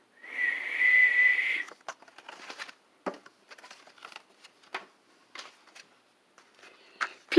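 A single clear, sustained whistled note rings out at the start, followed by scattered soft rustles and small clicks.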